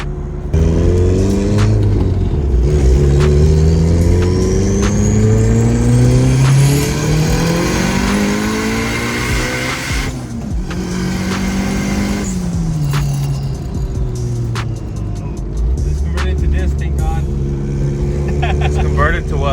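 A turbocharged Honda Civic running 20 lbs of boost pulls hard on a highway, its engine rising through repeated gear changes with turbo whoosh and whistle, loud and close, with people talking in the cabin.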